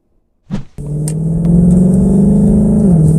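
Car engine heard from inside the cabin: a door thump, then the motor starts and settles into a loud, steady droning hum that rises slightly as it pulls away, with no talking.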